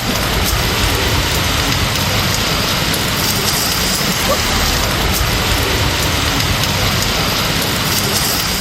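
Heavy rain driven by wind pours down around Ranipet in Tamil Nadu, a dense, even roar of water that stays loud from start to finish, with no distinct gusts or breaks.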